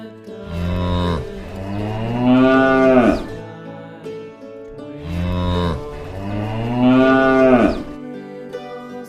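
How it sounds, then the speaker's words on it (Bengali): A cow and calf moo loudly and close by, two long drawn-out lowing calls each rising and falling, separated by a brief pause, with no one talking. "গ গয়ে গরু বাছুর দাঁড়িয়ে আছে।"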